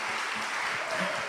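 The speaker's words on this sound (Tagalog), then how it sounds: "Kunti lang yung pumapalakpak" Scattered clapping from a few members of a church congregation during a sermon, a thin steady patter throughout.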